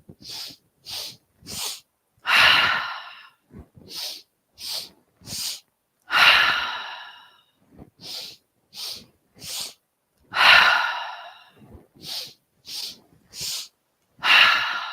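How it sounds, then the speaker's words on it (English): Sharp sniffing breaths from a yoga breathing exercise, short quick nasal inhales repeated in rhythmic groups, each group closing with a longer, fuller breath, close and clear with no talk. "Another round of 5 breaths."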